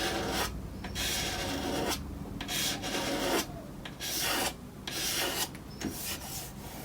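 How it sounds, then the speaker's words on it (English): Steady rhythmic rubbing strokes of abrasive across the painted wooden cabinet of a 1930s Lotus radio, close up, each pass a raspy swish separated by brief pauses. "maybe I'll just rub it back."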